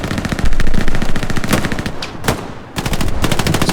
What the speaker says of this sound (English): Ghana's just gonna massacre them with this MG.